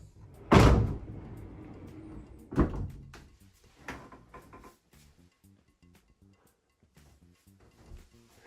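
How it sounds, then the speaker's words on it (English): A pocket door in a modular cabin-style home's bathroom slides open with a loud rolling thump, followed by a second softer knock and a few faint rattles, then quiet room tone. "We've got a pocket door going into this bath."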